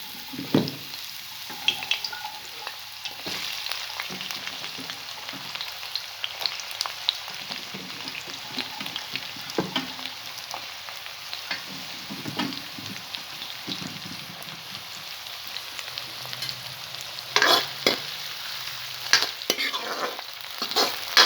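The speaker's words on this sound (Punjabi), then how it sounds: "ਤੇਲ ਜੋ ਆਪਣਾ ਗਰਮ ਹੋ ਚੁੱਕਿਆ ਹੁਣ ਆਪਾਂ ਇਹਦੇ ਵਿੱਚ ਸਭ ਤੋਂ ਪਹਿਲਾਂ ਪਿਆਜ਼ ਪਾਉਂਦੇ ਆ" Onions fry in hot oil with a continuous crackling sizzle, and a spoon stirs them with scattered scraping knocks that come louder in a few bursts near the end.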